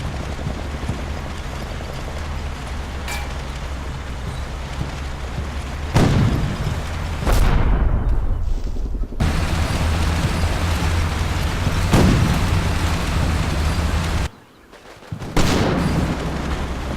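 In a war video game, machine guns and a Stummel halftrack open fire, producing sustained gunfire with several heavy booming explosions and brief drops in between.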